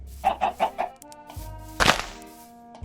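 Chicken in a modded Minecraft-style video game clucks in a quick run of four rhythmic notes, followed by a soft thunk and a single louder squawk, close and clear with no talk.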